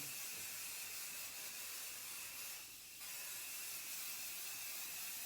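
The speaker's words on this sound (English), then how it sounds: "I'm gonna spray this right here." A steady hissing spray runs for several seconds, briefly pausing midway before resuming, with no voices.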